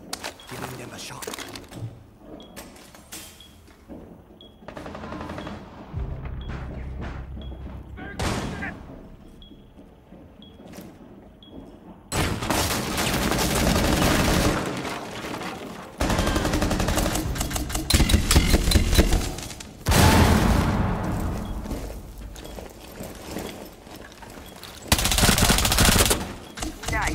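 Bursts of rapid automatic gunfire and single shots crack in a Rainbow Six Siege match, loud and close, coming in clustered volleys between quieter stretches of movement and clatter, with voices talking at times.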